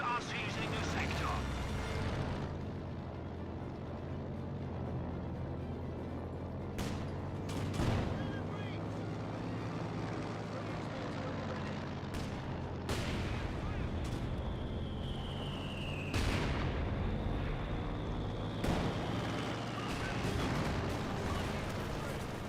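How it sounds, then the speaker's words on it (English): Mortar and artillery fire in the World War II strategy game Company of Heroes 2, with repeated sharp explosive blasts and rumbling impacts over a continuous battle din, one descending whistle among them, while someone talks throughout. "Good hits there on this mortar"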